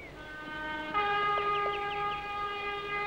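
A train pulls into a station with a long, tonal horn or whistle-like blast held over rumbling rail noise, fairly close and steady for a few seconds.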